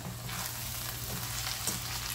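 Moringa drumsticks frying in coconut oil in a South Indian pan fry, a loud, unbroken hiss of frying up close with faint stirring ticks underneath.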